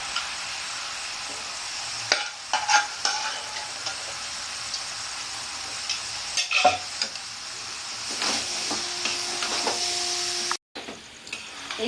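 Kabuli chickpeas stir-fried with mutton keema and spices in a Bengali-style pan, with a steady close sizzle broken by scraping stirs of the spatula and a brief cut-out near the end.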